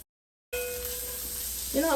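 Butter drops into a hot pan over seasonings and flavorings, bursting into a sudden even sizzle after a brief silence, with a faint clink near the end.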